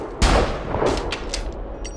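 Rifle gunshots in the video game Heathen ring out as several sharp, loud cracks: one heavy shot first, then a quick cluster of further blasts, each with a short echoing tail.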